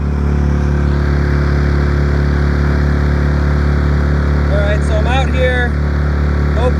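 A 2018 Suzuki DF6 6hp four-stroke outboard motor runs with a steady, loud, even drone throughout, and a voice speaks briefly over it near the end.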